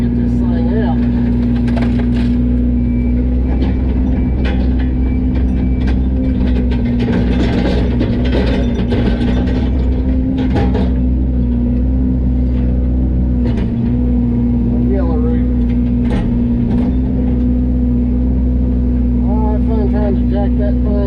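A Yanmar mini excavator engine idles steadily and loudly nearby at a camper trailer recovery, a constant low drone with intermittent clanks and mechanical noises over it.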